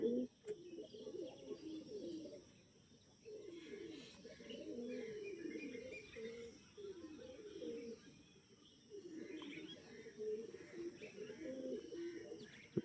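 Kalanka pigeons kept for sale coo steadily in close, low, rolling phrases that repeat through the whole stretch with short pauses, and faint chirps sit above them.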